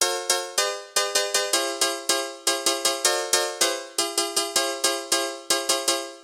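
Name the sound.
background piano in a song recreation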